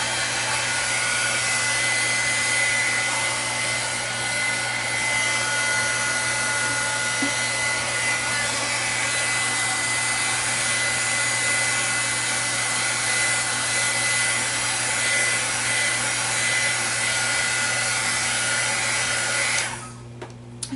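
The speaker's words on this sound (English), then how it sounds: "So I'm just using my embossing tool." Steady loud blowing whir of an embossing heat tool drying layers of blue Distress ink on a craft background, continuous and close for about twenty seconds, then cutting off near the end.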